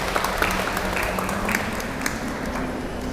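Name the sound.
audience applause welcoming a doctor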